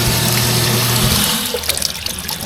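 Water pours and splashes steadily from a duckling brooding cage setup, a loud continuous gush that breaks into scattered drips and spatters toward the end, with no talking.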